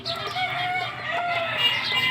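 Backyard chickens clucking close by while a rooster crows, the fowl calls overlapping in a short busy burst with no talking.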